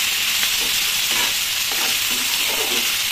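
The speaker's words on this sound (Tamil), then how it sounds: "ஒரு 5 மினிட்ஸ் நம்ம ஃபர்ஸ்ட் எண்ணெயிலே நல்லா வதக்கிப்போம்." Ivy gourd sautéing in oil, a steady loud hiss of frying with soft scraping stirs spaced through it, close up and with no voice.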